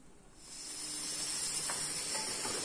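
A pressure cooker of beans builds pressure on the stove, giving a thin steady hiss that grows louder after the first half second and then holds, with faint kitchen sounds beneath.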